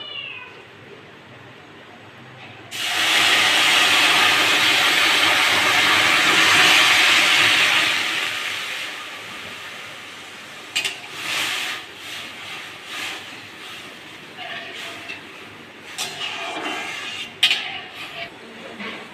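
A sudden loud sizzling hiss bursts out as water hits lightly fried moong dal, holding for several seconds, then fades into scattered clinks and stirring sounds.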